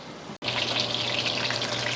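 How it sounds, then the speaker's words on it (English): Chuck roast searing in a hot pan for slow-cooker birria tacos gives a steady, bright sizzle that cuts out for an instant near the start and then continues evenly. "I'm gonna go flip my chuck roast and let that finish searing."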